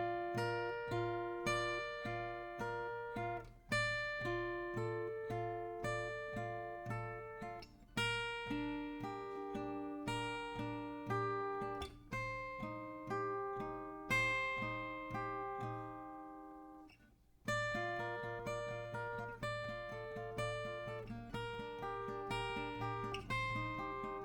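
An acoustic guitar picks a song intro at a slow, steady pace, with repeating arpeggiated chord patterns ringing clearly and quietly, and a brief pause near the middle before the pattern resumes.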